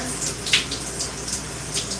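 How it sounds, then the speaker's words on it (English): Steady splashing of water poured onto hair during a wash, a continuous hissing rush with small surges, close and fairly loud with no talking. "So just put some water on my hair"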